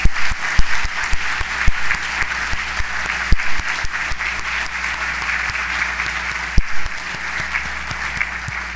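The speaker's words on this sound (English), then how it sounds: "may I please have a round of applause again for the class of 2024" Sustained applause from a ceremony audience honoring a graduating medical school class, steady and full with sharper individual claps standing out, continuing unbroken for several seconds without talk.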